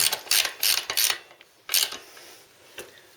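A ratchet wrench tightening the bolt on a suspension lowering block on a Harley Sportster, heard as several close bursts of rapid clicking with short pauses between strokes.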